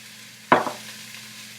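Red onion and baby bella mushrooms hit hot oil in a pot with a sudden sharp sizzle that quickly fades into a soft, quieter crackle, over a faint steady hum.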